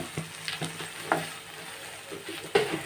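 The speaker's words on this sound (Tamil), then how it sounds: "இப்போ நல்லா வதக்கிக்கலாம்" Onions or pasta ingredients being sautéed and stirred in a pan, a soft steady sizzle with occasional scraping clinks of a spoon against the pan, quiet and close.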